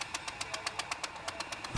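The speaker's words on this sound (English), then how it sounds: "Many of the displays were run by an assortment of stationary engines, common on the farms in the early part of the 1900s." An old stationary farm engine from the early 1900s runs at a harvest demonstration, giving a steady, evenly spaced chugging knock about six beats per second, fairly close and alone.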